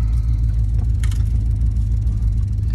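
A car engine rumbles loudly and close as the vehicle pulls away from a garage, a steady low drone with a brief higher whir in the middle, no talking.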